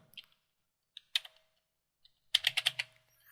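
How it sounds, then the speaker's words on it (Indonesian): Fingers typing a name on a computer keyboard while working in CorelDRAW: a few isolated key clicks, then a quick burst of five or six taps near the end, close and crisp in a quiet room. "Saya ketik di sini nama."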